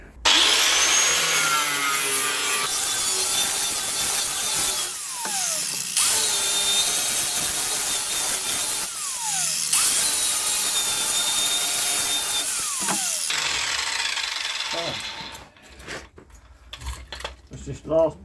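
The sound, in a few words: grinding through rusty VW T4 wheel arch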